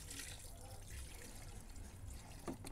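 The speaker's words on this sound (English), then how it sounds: "We need more, a little bit more water." Water trickles and pours into a pot of Kenyan street-style chicken stew, a soft, steady flow heard quietly with a faint background murmur.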